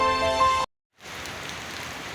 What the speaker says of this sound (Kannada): ನೋಡಿ ಜೋರು ಮಳೆ ಕೂಡ ಬರ್ತಾ ಇದೆ.